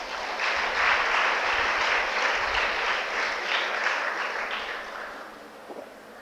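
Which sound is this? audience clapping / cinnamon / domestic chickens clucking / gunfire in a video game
audience clapping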